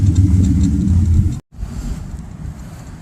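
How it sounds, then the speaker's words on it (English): A low rumble of passing road traffic fills the air, briefly cut off, then continuing as a softer, steady hum with wind noise. "sorry for any traffic that you may hear"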